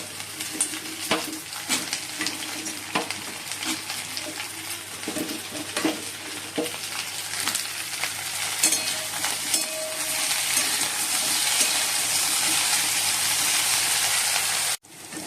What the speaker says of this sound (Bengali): এই দিয়ে পেঁয়াজটা তেলের মধ্যে দিয়ে দিচ্ছি, ভালো করে লাল লাল করে ভেজে নেবো